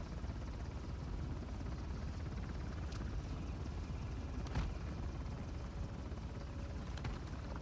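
Steady, loud helicopter rotor drone from Uncharted The Lost Legacy, a continuous broadband roar with no speech, and a brief sharper burst partway through.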